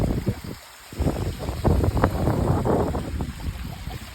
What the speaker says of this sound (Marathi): शेतातून हे खळखळणारं पाणी